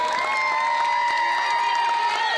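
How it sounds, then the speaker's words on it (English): A crowd at a head-shaving charity fundraiser cheers and claps in a steady, loud wash of applause and whoops that fully drowns out the buzz of clippers. "The dull buzzing sound of the clippers completely overpowered by the crowd watching every clip."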